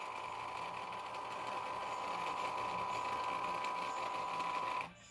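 Hy-Gain Ham IV antenna rotator motor turning toward its south stop, a continuous close whirring hum that runs evenly and then cuts off abruptly at the end.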